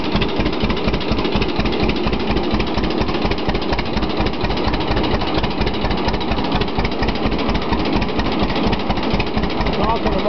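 An old engine runs steadily at a fast, even idle throughout, loud and close, with a voice talking over it.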